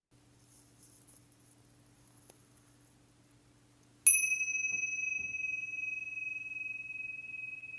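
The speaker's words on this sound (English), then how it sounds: "we'll start and end with a bell today" A meditation bell is struck once during quiet room ambience and then rings out in a clear, sustained high tone that slowly fades, with no voices.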